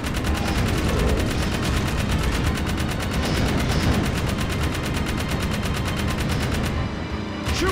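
Relentless video game gunfire, a steady dense stream of rapid shots and automatic bursts at constant loudness for nearly eight seconds, briefly thinning at the very end.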